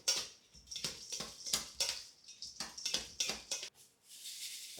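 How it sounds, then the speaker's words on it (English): Panko crumbs being mixed into stuffing in a bowl, a close, quiet series of irregular scraping and clicking strokes in an uneven rhythm, with no talk. "I just like to keep mixing it in the bowl"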